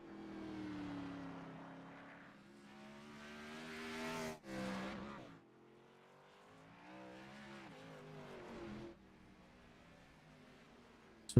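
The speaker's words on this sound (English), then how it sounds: "So right now we still have 7 cars out logging laps on the racetrack" Gen 4 RC race cars lap a one-mile concrete oval track, their high-pitched whining motors rising and falling as they pass one after another, some near and loud, others fading into the distance.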